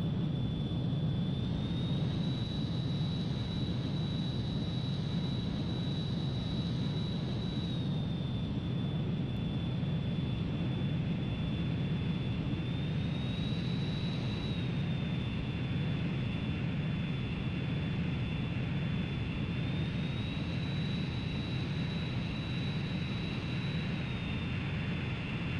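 Jet aircraft engine in Ace Combat 3 during mid-air refueling: a continuous, loud engine roar with a sustained high whine that rises slightly in pitch at intervals, without any talk.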